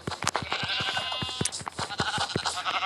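Sheep bleat in a video game set in a snowy block-building world. Wavering bleats sound close and clear over a run of quick, evenly spaced taps.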